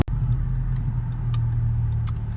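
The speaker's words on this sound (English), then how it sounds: "is that a Lamborghini Urus?" A Lamborghini Urus driving past on a road, a steady engine drone heard from inside a car, with faint ticking over a low rumble.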